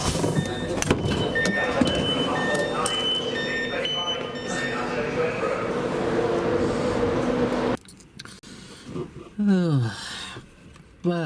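Interior of a car heading home in the evening, with steady road rumble and cabin noise that cuts off abruptly partway through, followed by quieter moments and a brief swelling whine, with a voice heard at times.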